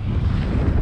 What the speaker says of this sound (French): Le vent commence à monter.